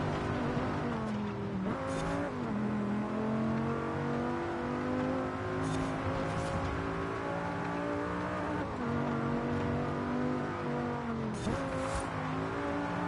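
A Dodge Viper in a racing game roars under load, its harmonic engine note rising and falling through gear changes and revs, with short bursts of tire squeal breaking in now and then.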